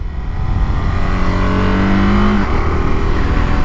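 A car rolls along a dirt county road section, heard from inside as a loud, steady low engine and road rumble with a faint rising engine tone midway.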